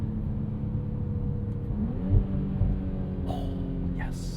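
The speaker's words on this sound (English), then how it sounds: "you get the odd pop and burble on the over rev" A 2025 Audi SQ5 SUV's turbo V6 engine revs with a loud, steady drone from inside the cabin. The note rises, and a couple of brief pops cut through midway.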